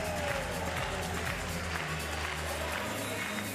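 A crowd at the Paralympic judo medal ceremony in Paris cheers and applauds the medalists, a steady, distant wash of clapping and voices beneath music.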